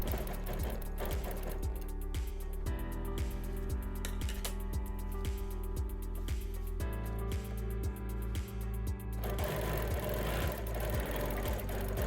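A sewing machine quilts Baptist fan curves along the edge of a ruler template, its needle pounding a fast, even rhythm that pauses briefly and then resumes, steady and close with no talking.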